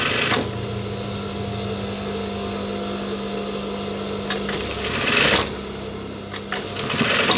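A sewing machine stitches the cuff and waistband of a denim jacket along a 1 cm seam, giving a steady, moderately quiet whirring hum with a few brief clacks and shifts partway through.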